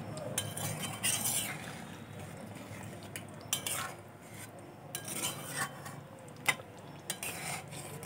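A utensil stirs ground garam masala into a pan of egg curry with potatoes, giving repeated close scrapes and light metallic clinks over a soft background hiss.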